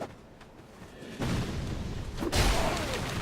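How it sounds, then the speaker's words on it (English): Two deep booming blasts from a firebomb-throwing enemy exploding in the video game Dark Souls 2, the first bursting in abruptly and the second louder, each leaving a rumbling fiery tail. "Unless you bait out the explosion."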